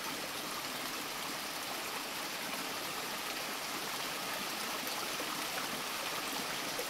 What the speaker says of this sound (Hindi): ये देखिए, ये गधेरा इतना, इस गधेरे के पानी को आप देखेंगे ना